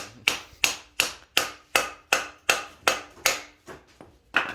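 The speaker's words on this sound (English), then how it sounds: "The hammer to the bearing." Hammer blows drive a new bearing onto a Honda ATV crankshaft (Rancher, Foreman or Rubicon, 420/500/520), about eleven sharp metallic strikes in a steady rhythm, loud and close with no talking.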